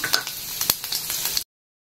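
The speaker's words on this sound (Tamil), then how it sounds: "லெமன் சாதம் தாளிப்பு போட்டுக்கலாம். கடுகு, உளுத்தம்பருப்பு, அப்புறம் வந்து கடலைப்பருப்பு கொஞ்சம்" Mustard seeds and dals hiss and crackle in hot oil during a tempering for lemon rice: a close, bright sizzle with scattered pops for about a second and a half, then silence.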